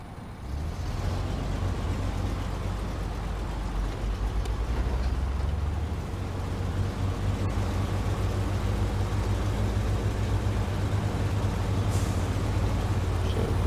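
A Western Star truck rumbles steadily through SnowRunner terrain, its low engine drone continuous and fairly loud, with a brief air brake hiss near the start and a sharp release later on.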